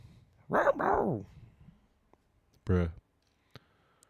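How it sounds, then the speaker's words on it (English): A dog barks outdoors, two short bursts of barking separated by a pause, followed by a faint click, heard at moderate distance in a quiet room. "Now he's just out there barking."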